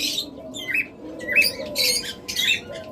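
A pair of violet Fischer's lovebirds give sharp, repeated chirping and squawking calls in quick bursts, fairly close and loud over a low background hum.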